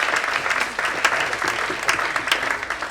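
An audience at a conference on memory applauds in a short, dense burst of clapping that holds steady at a moderate level throughout.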